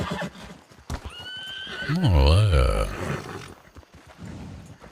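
A horse whinnies loudly in a long, wavering neigh, close by, with hooves clip-clopping around it and someone speaking briefly in French.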